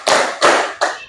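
Schoolchildren clap on command in a classroom, three sharp, evenly spaced claps in quick succession, loud and close with no talking.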